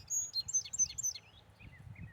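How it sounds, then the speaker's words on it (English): A bird sings outdoors by the sea, a run of four or five quick, high, descending whistled notes followed by two fainter ones, clear against a low background rumble. "I had to wait for the bird to sing one more time."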